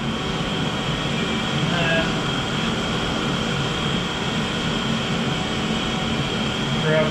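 Compressed air blows debris off a small machined part, a steady, loud, breathy hiss that holds without a break.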